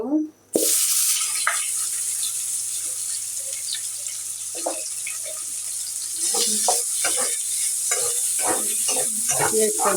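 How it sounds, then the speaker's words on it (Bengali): Chopped onions sizzle loudly in hot oil left from frying fish, browning, with a spatula scraping and stirring the pan at intervals. "ভালো করে ভেজে নিব বন্ধুরা পেঁয়াজটা লাল করে ভেজে নিয়েছি"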